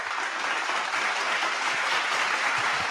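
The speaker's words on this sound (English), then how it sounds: "Okay, we love the applause." An audience applauds at a poetry event, a steady dense wash of clapping that holds at an even level for a few seconds with no talking.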